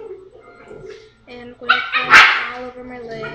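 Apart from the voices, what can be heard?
dogs barking and fighting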